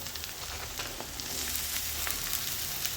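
Eggplant, potato and capsicum sizzling in hot oil in a pan, a steady close crackle with fine spitting pops and no voices.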